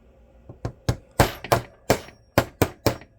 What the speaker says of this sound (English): we're going to take our funny brass hammer, because brass is softer than steel